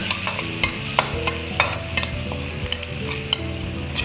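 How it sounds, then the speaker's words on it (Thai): Chopped garlic stir-frying in a wok, giving a steady close sizzle with rhythmic clinks and scrapes of a spatula against the pan, no speech. "ผัดกระเทียมให้มีกลิ่นหอมนะครับให้มีสีเหลืองทองนะ แต่ว่าระวังไหม้ด้วยนะ"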